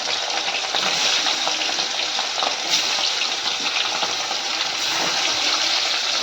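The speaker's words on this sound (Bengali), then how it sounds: "মাছটা আমি লাল লাল করে ভেজে তুলে নেব।" Katla fish frying in hot oil, a loud, steady, bubbling sizzle that fills the whole stretch up close, with no voices.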